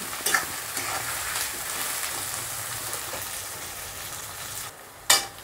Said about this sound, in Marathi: लसूण टाकू, जिरे टाकू, मिरची टाकू। हे चांगलं फ्राय होऊ देऊ।